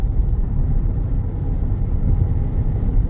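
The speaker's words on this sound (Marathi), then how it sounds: "ट्रॅफिक आहे बऱ्यापैकी." Steady car traffic rumbles along the Mumbai–Pune expressway, a constant low road roar with no talking, heard from inside or beside the moving vehicle.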